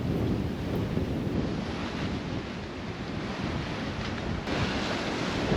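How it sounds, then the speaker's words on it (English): Strong wind and breaking waves around a sailboat at sea off the East Cape of New Zealand, running on a reefed mainsail; a loud, constant roar of gusts and surf with heavy wind buffeting. "As we close in on the East Cape, the wind increases considerably."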